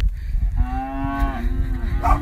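Cows in a field give a long, loud, close moo with a falling pitch, followed by a short burst of other noise at the end.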